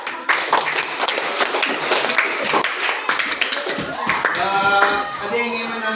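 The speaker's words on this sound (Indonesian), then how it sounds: "coba tepuk tangan dulu" Students in an Indonesian classroom lesson clap their hands together for a group that has just presented, a brief burst of loose, uneven clapping that fades into quieter tapping and a few voices toward the end.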